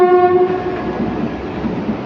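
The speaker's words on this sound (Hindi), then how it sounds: "पहली ट्रेन अब शिमला की ओर निकल चुकी है" Kalka-Shimla train pulling out of Solan toward Shimla in heavy rain, a loud horn blast at the start fading into a low, rumbling run of wheels and carriages.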